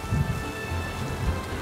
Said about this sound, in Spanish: Aquí está lloviendo